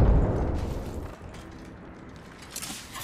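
A video game grenade goes off in a loud, boomy burst that decays into a rumbling tail, followed by faint clatter and scattered game noise, with no talking.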